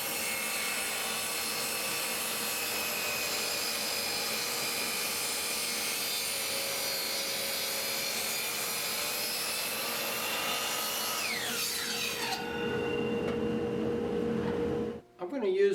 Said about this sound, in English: we'll go ahead and cut the miters